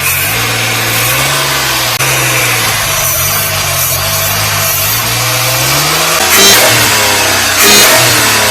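Supercharged mini truck fitted with an AMR300 blower revs hard on a test drive, its engine note climbing and falling in steady sweeps, loud and close throughout with sharper bursts of throttle near the end.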